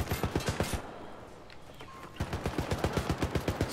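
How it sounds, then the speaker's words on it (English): Rapid automatic turret fire in the video game Syndicate, loud bursts of evenly spaced shots that pause briefly mid-clip before resuming in a steady, fast stream. "Oh, we got a turret up in this bitch."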